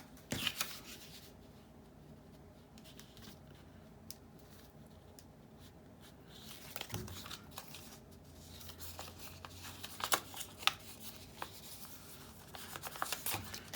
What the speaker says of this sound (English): I'm gonna tear it first.